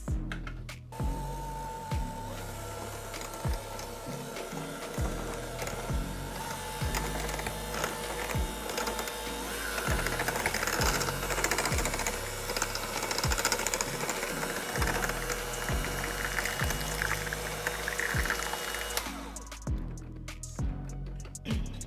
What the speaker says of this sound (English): now I'm going to take my hand mixer on low and incorporate this